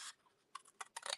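Ribbon scissors cutting off a piece, with a few close, crisp snips in quick succession after a brief quiet pause.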